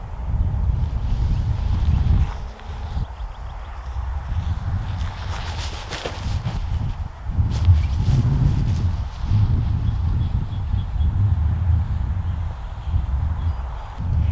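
A light headwind gusts across an open disc golf course, making a steady low rumble and buffeting at the microphone that runs continuously for the whole stretch without any voices.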